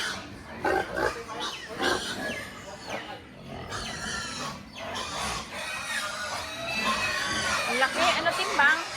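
Pigs grunt and squeal loudly in bursts, with clucking fowl mixed in and people talking nearby.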